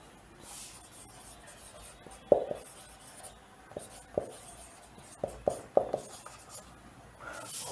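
Writing a chemical equation on a board during a science lesson: a string of irregular, crisp taps and short scratching strokes, fairly close and moderately quiet, separated by soft hissy pauses, with no talking.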